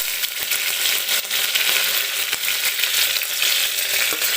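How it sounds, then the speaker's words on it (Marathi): Curry leaves sizzle in hot oil with garlic in a pan, making a loud, steady, crackling hiss throughout, close by and with no voices. "आता मी टाकते कढीपत्त्याची पानं"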